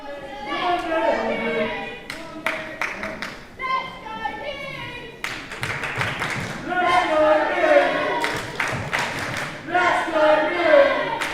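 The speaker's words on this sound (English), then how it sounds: "The crowd chanting, "Let's go, Newt!"" Crowd at a live wrestling event chanting and clapping in rhythm, rising and falling in waves, loud and close with many voices together.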